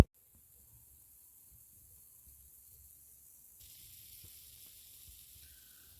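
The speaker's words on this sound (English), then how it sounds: "let's go ahead and punch that fruit cap and listen to the sizzle" A soft, steady fizzing hiss of fine bubbles from a punched fruit cap on fermenting starfruit mead, quiet and continuous, growing slightly brighter partway through, with faint low knocks underneath.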